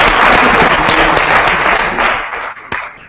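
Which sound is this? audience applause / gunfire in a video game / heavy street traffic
audience applause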